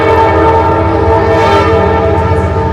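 A train passes close by, sounding a loud, sustained, chord-like horn over a continuous heavy rumble of rolling railcars.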